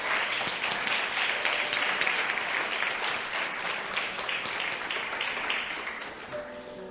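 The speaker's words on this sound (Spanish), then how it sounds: "Dale un aplauso al Señor." A church congregation applauds together, a dense, steady wash of clapping that holds strong for most of the stretch, then slowly thins and fades toward the end.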